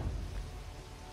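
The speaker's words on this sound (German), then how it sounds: "Wenn das Gewitter so auf den Sack geht" Steady rain pours with low thunder rumbling beneath it in a thunderstorm from the video game Risen, a dense, constant wash with no voices.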